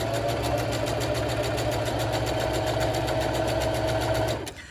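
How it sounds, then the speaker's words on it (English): An SPI sewing machine stitches a line on fabric with a steady, rapid mechanical whirring and needle chatter, close and continuous, slowing and stopping just before the end. "and I can go ahead and sew my line."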